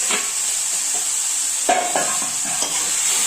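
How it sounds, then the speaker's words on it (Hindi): Mustard greens stir-fry with garlic and chilli in Chhattisgarhi style under a bright, steady sizzle, while a spoon scrapes and tosses the greens in several short strokes. "एक चम्मच चलाते रहे इसमें ताकि इसके बाद 3 से 4 मिनट तक इसे ऐसे भूनते रहे"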